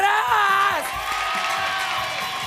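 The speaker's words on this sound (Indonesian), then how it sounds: "Tepuk tangan sekali lagi buat Drive." Studio audience on an Indonesian TV show cheering and whooping loudly, with a rising shout that breaks into broad crowd noise and steady clapping underneath.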